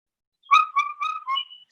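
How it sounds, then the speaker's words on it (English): Indian cuckoo calling in Nagaland, a single clear four-note whistled phrase, the notes evenly spaced and slightly descending, close and alone against silence. "when they hear the Indian cuckoo call"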